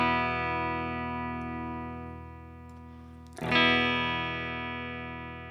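An electric guitar chord rings through a Mark IIC+ preamp simulator plugin, sustaining with a thick distorted tone that slowly fades, then a second chord is struck and blooms louder before decaying again.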